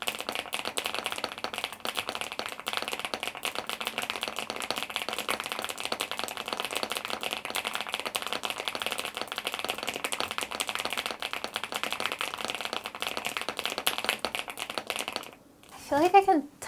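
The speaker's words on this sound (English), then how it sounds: "I feel like I can type faster with this keyboard." Rapid, dense clicking of typing on a slanted keyboard with long nails runs steadily for most of the stretch, then stops abruptly near the end as a voice briefly begins.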